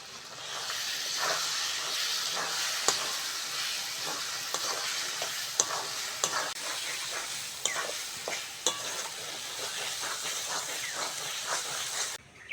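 Tomato going into frying spice masala for chicken kosha, a continuous loud sizzle and hiss with scattered stirring scrapes and pops over nearly thirteen seconds, no talking.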